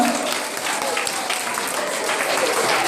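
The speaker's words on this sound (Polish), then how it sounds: "Ej, no kochani, gorące brawa!" Wedding guests at a reception applaud steadily, a dense wash of clapping that stays loud and even for the whole stretch.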